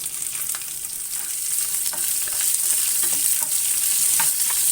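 Onion, garlic and green chillies are gently sautéed in a pan for ridge gourd chutney, making a continuous close sizzle with soft, irregular stirring scrapes over it.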